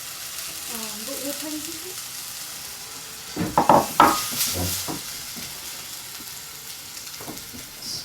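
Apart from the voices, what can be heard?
mung bean dal frying in pan with tomatoes, garlic, mustard seeds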